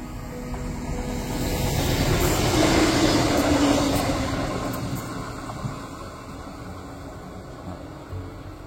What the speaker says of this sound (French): il y a un train qui passe